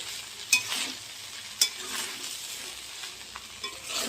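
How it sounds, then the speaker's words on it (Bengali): Fried rice being stirred in a pan, with scraping strokes of the utensil over a steady soft sizzle and two sharper clinks against the pan, with no one speaking. "এবারে ভালো করে নাড়ব।"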